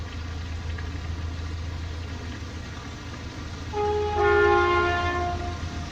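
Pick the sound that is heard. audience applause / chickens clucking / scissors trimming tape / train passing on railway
train passing on railway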